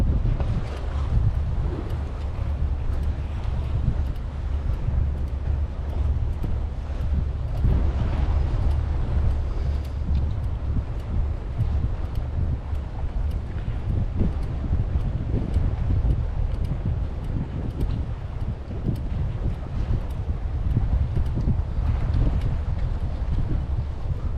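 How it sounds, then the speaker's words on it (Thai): Strong wind blows by the sea at Samae San in Chonburi, a steady loud roar buffeting the microphone with rumbling gusts and wave wash throughout, and no voices. "ขนาดตอนเช้าดูลม ยัง แรงอยู่เลยครับ"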